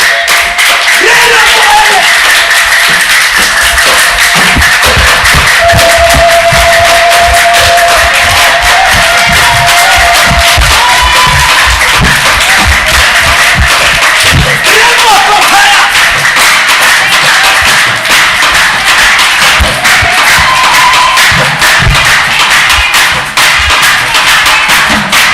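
A church congregation claps hands together in a dense, steady, loud patter that continues throughout, with crowd voices and cheering mixed in.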